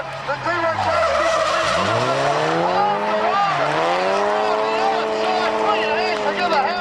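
D1 Garage drift car at a drift competition, sliding hard with loud sustained tire squeal and screeching engine revs that rise and dip through the corner, with a commentator talking over it.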